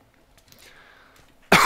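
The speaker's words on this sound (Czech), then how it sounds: "Teď jsem si potřeboval odkašlat." A single sharp cough bursts out loud and close right at the end, after a stretch of quiet room tone with faint game sounds.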